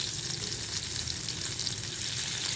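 Beef tikka boti frying in a pan gives a steady, close crackling sizzle with fine high-pitched spatter, continuous and even throughout with no voices.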